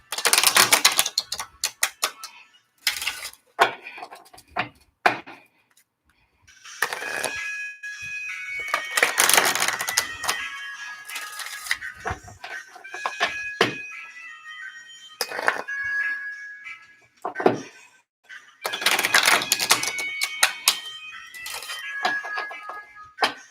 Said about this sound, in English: One last shuffle, and I am going to pull from the bottom of the deck.